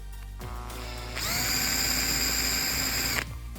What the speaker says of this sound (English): I've actually marked the hole where it says to drill. So I will drill that now.